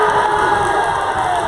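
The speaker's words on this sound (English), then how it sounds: "Huge shot there. The crowd loves it" A basketball crowd at a Central Penn men's game against Berkeley cheers and roars after a three-point shot, a loud, dense wall of voices throughout.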